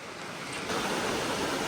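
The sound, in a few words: Nardis waterfalls rushing water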